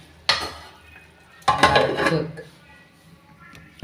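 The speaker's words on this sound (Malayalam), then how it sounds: "ഇനി നമുക്ക് പറ്റി വെച്ച വെണ്ട ഇതിലേക്ക് ഇട്ട് കൊടുക്കാം" Sliced okra tipped into a pot of boiling curry: a sharp clatter, then a longer rattling, sloshing burst of stirring, followed by quieter bubbling.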